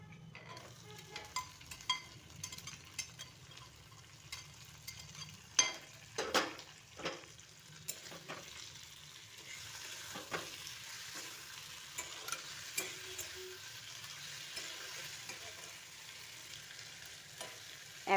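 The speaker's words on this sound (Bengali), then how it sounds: "এখন মাছগুলো এতে দিয়ে দিচ্ছি।" Fish being added to a pan of golden fried onions for a Bengali puti fish recipe, giving a soft, steady sizzle broken by scattered stirring and spatula clinks, with no voices.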